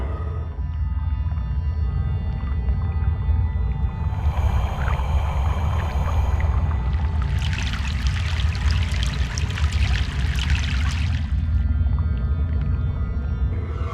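Water churns and pours beneath a constant low hum as a boat crosses a river in Egypt in Broken Sword 3: The Sleeping Dragon, with a louder rushing, splashy stretch building in the middle before easing off.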